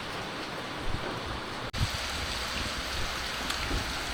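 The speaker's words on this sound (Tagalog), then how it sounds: "Ang lakas ng ulan." Heavy rain falling during a hot summer, a dense steady wash of hiss with a single sharp dropout midway, loud and continuous with no voices.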